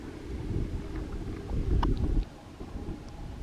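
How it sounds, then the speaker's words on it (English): Wind blowing outdoors at Alstrom Point rumbles as a low, steady buffeting roar across the microphone, swelling briefly and then easing, with no voices. "The wind is blowing."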